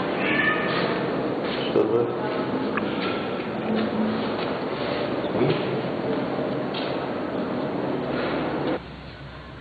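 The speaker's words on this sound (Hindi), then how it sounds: "सुबह बिल्ली की आवाज साथ साथ है।" A cat meows several times amid noisy room sound and indistinct voices, the background cutting off abruptly near the end.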